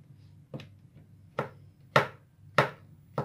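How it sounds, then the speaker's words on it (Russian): A knife chops washed champignon mushrooms into small pieces on a board, five crisp, evenly spaced cuts sounding close up with no talk. "Шампиньоны я помыла и вот так нарезаю небольшими такими кусочками."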